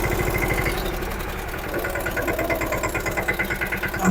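A small mini Thar vehicle's engine idles steadily while reversing to load cement bags, a continuous close rumble with a rhythmic pulsing throb throughout.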